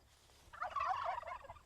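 Turkeys on a farm break into a loud burst of rapid, bubbling gobbles that swell and overlap for about a second against quiet outdoor background noise, with no talking.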